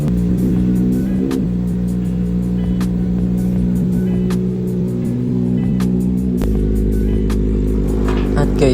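A motorcycle engine revving while warming up, a loud steady idle drone with a low throbbing tone that shifts deeper partway through, with occasional clicks and clatter, close by.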